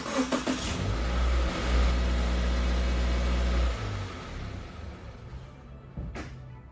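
A Subaru Impreza engine cranks and catches with a loud surge, holds a strong rumbling rev for a few seconds, then drops to a quieter, steady idle, close up with no talking.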